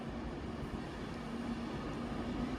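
A Class 390 electric train passes nearby at London Euston, a continuous rumbling roar with a faint steady hum, no voices.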